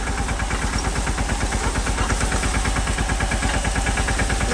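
A farm tractor engine runs close by with a loud, steady, fast chugging pulse and a low rumble, continuous throughout and with no voices.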